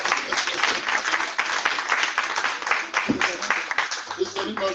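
A church congregation applauds during an Easter service, a dense, steady wash of hand claps filling the room for several seconds, with voices and a brief musical note rising near the end.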